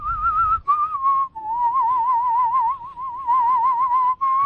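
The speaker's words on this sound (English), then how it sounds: "Let's hear a little in whistling." A man whistles a steady, clear melody while breathing in, a single pure tone wavering in pitch with short breaks between phrases, close and alone.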